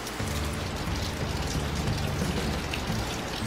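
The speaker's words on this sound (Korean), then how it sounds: "비가 오니까 너무 더 좋아요." Steady rain falling outside a traditional house, a dense constant patter of drops on surfaces, close and even with no voices.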